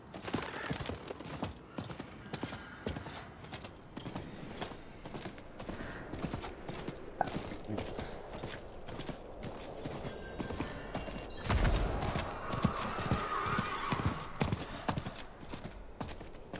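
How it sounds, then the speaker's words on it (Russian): Horse mount hooves clip-clopping in the video game Diablo, a steady rapid trotting beat running throughout with game effects layered over it, moderately loud. "Этот конь, который мне дропнулся просто с моба"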